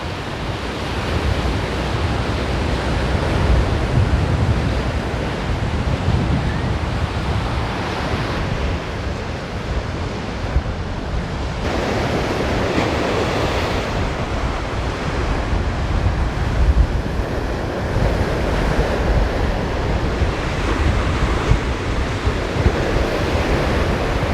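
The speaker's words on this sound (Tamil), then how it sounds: "இப்போ பார்த்தீங்கன்னா மேலேயே அலை வந்துட்டு அலையும் பயங்கர ஆக்ரோஷமாக இருக்குது" Rough, aggressive sea waves crash continuously on a beach in Jaffna, Sri Lanka, during flooding, a loud steady roar of surf with wind noise and no talking.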